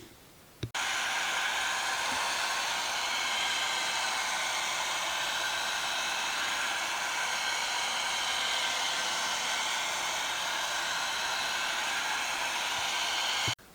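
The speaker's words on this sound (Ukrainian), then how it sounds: "буду гріти технічним феном" A heat gun blows on an electric bicycle's hub motor cover with a steady, loud whooshing roar, switching on after a short pause and running continuously without a break.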